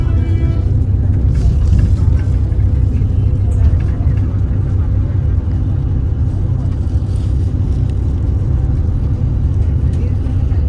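A TSRTC Rajadhani AC bus rumbles at a busy bus station, a loud, steady low engine drone with broadband noise throughout and no clear breaks.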